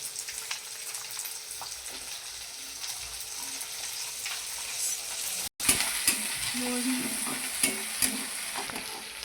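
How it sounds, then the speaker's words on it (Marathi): Green chillies and garlic roast in hot oil for a spicy dal mircha, giving a steady soft sizzle with light stirring scrapes. A brief dropout comes midway, followed by slightly louder frying and occasional clicks. "त्यामध्ये ॲड केलेली ही मिरची मिरची अशी पूर्ण अशी चांगली भाजून घ्यायची"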